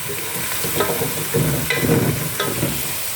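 Two large onions fry in a pot, giving a loud, continuous sizzle broken by bursts of stirring and scraping, close up and without speech.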